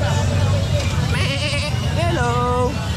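Goats at an outdoor pet market, with one or two bleats standing out over a constant crowd babble and nearby voices.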